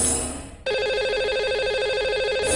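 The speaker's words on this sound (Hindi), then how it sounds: "लगाते हैं इन्हें कॉल और करते हैं इनसे बात।" A telephone line rings for a lucky caller on a TV show, a loud, steady trilling ring that starts abruptly after a brief burst of broadband noise and continues unbroken.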